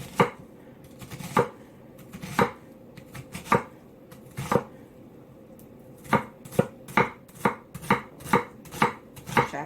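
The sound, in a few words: knife chopping cabbage into small pieces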